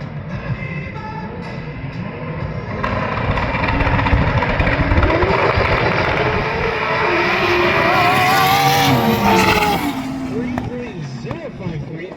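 A hot rod makes a drag racing pass down a sand track at a winter drag event: a loud engine roar that climbs sharply in pitch near the end of the run, with an announcer talking over it.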